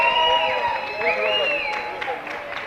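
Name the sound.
audience applauding and cheering guests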